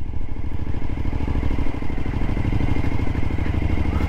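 Motorcycle ridden through deep sand on a round-the-world trip, its engine a loud, close, steady chugging drone with a rough, pulsing texture and no talking.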